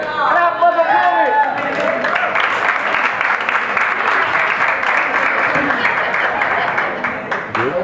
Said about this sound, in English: Clap for the poet.